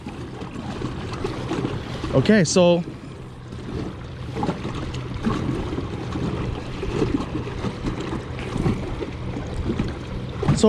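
A Slayer Max tournament fishing boat's motor drones steadily at full throttle under broadband wind and water rush, with a brief whistling tone and a short spoken phrase.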